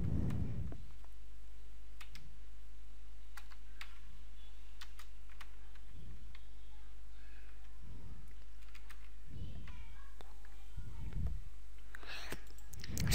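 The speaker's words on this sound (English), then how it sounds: "Start typing in English." Keys clicking on a computer keyboard in irregular bursts and single taps, close and fairly quiet, entering English text into an online transliteration tool for Kannada, with no voices over it.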